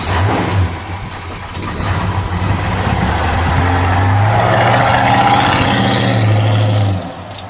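A 1970 Dodge Super Bee with a 440 Six Pack V8 idles with a deep, loping rumble close by, swelling into a stronger rev midway before settling back down.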